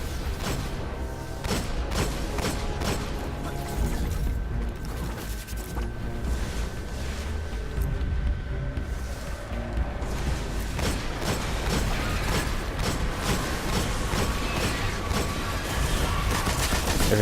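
Heavy machine gun fire in the video game Destiny, a dense, rapid stream of shots that runs continuously for the whole stretch over steady game ambience, with no talking.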